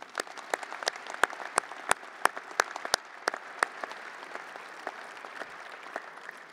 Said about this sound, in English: Please join me in a round of applause and thanks for these generous supporters.